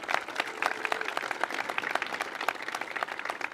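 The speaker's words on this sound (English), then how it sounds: "So let's give him a round of applause also." Audience applause at the Purple Line groundbreaking ceremony, a moderate crowd clapping in scattered, distinct claps that hold steady, heard at a slight distance with no talk over it.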